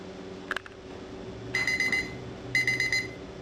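A board game's one-minute timer goes off, two short bursts of rapid electronic beeping about a second apart over quiet room tone, with a couple of faint clicks before.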